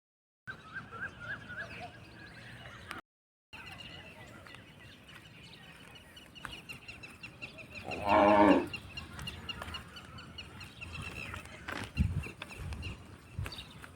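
Cows moo at a new village cowshed in Gujarat, one loud, close low moo standing out over steady outdoor background noise, with faint animal sounds around it.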